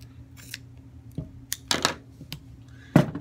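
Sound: scissors cutting a piece of tape

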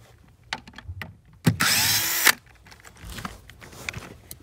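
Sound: 10 mm socket removing plastic nuts on a Volkswagen Passat

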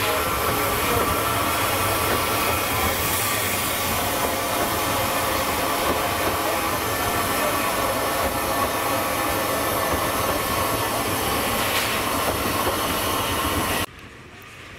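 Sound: hourly service train hauled by 280 locomotive passing

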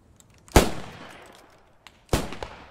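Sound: gunshots in a military video game

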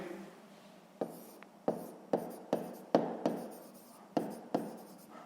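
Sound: writing on paper during math lesson

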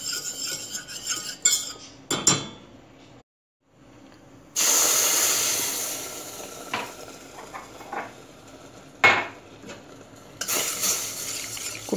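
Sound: flour frying in butter, sizzling

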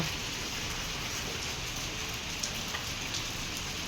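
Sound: rain falling

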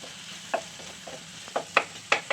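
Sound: ginger and garlic sautéing in a pan

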